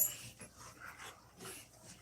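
A pet dog in a home with three dogs makes faint, close vocal sounds, short breathy whimpers and pants rising and falling a few times in a quiet room.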